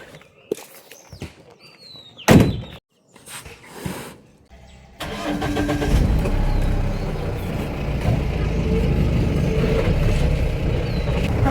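A vehicle's engine cranks and catches after a few clunks and door sounds, then settles into a steady loud idle rumble that runs on, close by, with no talking.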